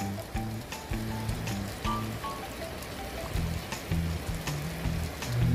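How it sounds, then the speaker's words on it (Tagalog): Rain pours down in Riyadh, Saudi Arabia, during a 2025 hailstorm, a steady close hiss scattered with sharp drop and impact taps, with low sustained tones droning underneath. "Mula kaninang madaling araw umuulan dito sa Riyadh, Saudi Arabia."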